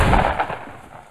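A single loud shotgun blast in the Fortnite video game, a sharp boom that quickly fades out.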